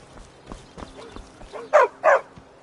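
A dog in Skyrim gives two short, loud barks near the end, after some quieter soft sounds, with no voices over it.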